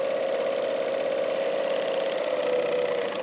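Serger stitching a seam along a cloth napkin edge, a steady close mechanical whir with a fast rhythmic chatter, running continuously without pause.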